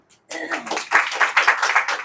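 An audience claps its hands at a spiritual talk, a dense, fairly loud patter of many hands that starts suddenly and keeps going evenly to the end, with a faint voice just before it begins.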